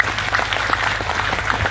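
A crowd at a Minangkabau ceremony installing a penghulu applauds steadily, a dense patter of many hands clapping throughout.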